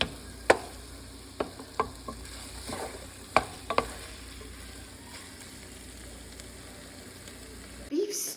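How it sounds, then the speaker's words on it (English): Beef cubes for stew sizzle and brown in a pot, a soft steady frying hiss broken by a few sharp clinks and stirring knocks, heard close and alone. "As you can see, the meat is browning"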